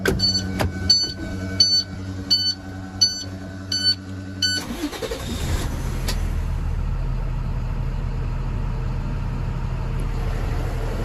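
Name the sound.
2019 International MA025 box truck engine running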